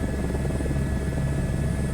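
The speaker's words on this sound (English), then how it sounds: "It's the first time I do a helicopter flight over Paris" A helicopter flies over Paris in Microsoft Flight Simulator 2024, a loud, steady rotor thrum with rapid even blade pulsing and a constant engine drone.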